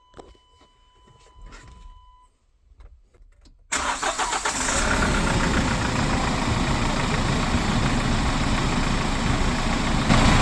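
A Kia Bongo 3 truck's engine after a belt replacement: faint clicks and shuffling, then the engine cranks and catches abruptly, settling into a steady, loud, close idle that runs on alone.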